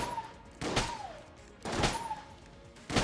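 Machine pistol fire from the Enter the Gungeon video game, three short bursts of rapid shots roughly a second apart over a soft ringing game tone.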